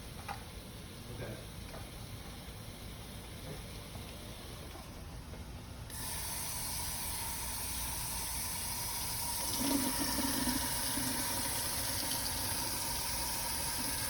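Iceberg lettuce in a bowl being rinsed under a kitchen faucet, with a steady hiss of running water that grows louder midway, plus faint background noise and light handling sounds.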